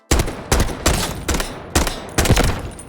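Six heavy gunshots, evenly spaced and close, fire one after another in the shooter game Delta Force, each a sharp loud crack with a short ringing tail, as rounds break through purple armor against a composite gold vest.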